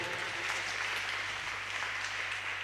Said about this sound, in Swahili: tuwapigie makofi wana brigade wote